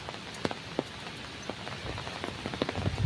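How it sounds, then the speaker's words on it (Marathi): Heavy, relentless rain pours on the second straight day of a downpour that has flooded a local stream, a dense steady hiss with scattered sharper drop impacts, growing louder toward the end, with no voices. "पावसाने एकदम थैमान घातला आहे"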